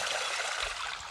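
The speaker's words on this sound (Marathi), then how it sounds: "हे पाणी दाखव इकडं, पाणी चाललंय." Water from a Shakti solar-powered farm pump streams steadily out, a close, hissing rush of flow with a low gurgle underneath, continuous and fairly loud with no talk.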